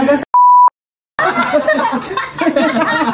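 A pure steady censor beep cuts in for a moment between silences, then laughter and lively chatter follow.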